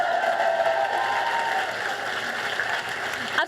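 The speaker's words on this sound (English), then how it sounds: "let's clap that one more time" A crowd at a Socialist Campaign Group of Labour MPs rally claps in a loud, sustained burst, with a little cheering mixed in and a brief voice near the end.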